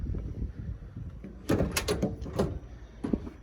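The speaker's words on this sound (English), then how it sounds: "the doors open and close" Doors of a 1978 Ford F250 Crew Cab pickup being opened and shut, several close clunks and latch knocks over a low background rumble.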